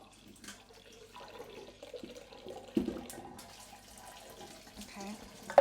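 Tap water runs into a sink to soak cut flowers, a steady low splashing rush with a few louder bursts, heard close up with no talking.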